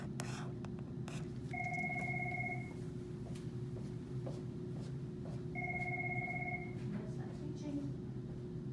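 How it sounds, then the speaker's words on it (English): A phone rings twice in two long electronic bursts, fairly close, over a steady low hum and a continuous murmur of background noise. "my phone is ringing"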